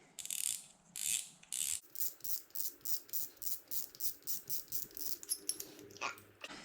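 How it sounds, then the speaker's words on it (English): Clicking and ratcheting of a Daiwa Sol III spinning reel as the drag knob and spool are removed: a rapid, even train of close, crisp mechanical clicks following a few louder separate clacks. "we need to remove the drag knob and the spool"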